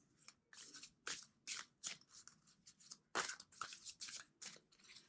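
Cards riffle and snap in quick bursts, several shuffles in a row with brief pauses between, close and crisp with no talking.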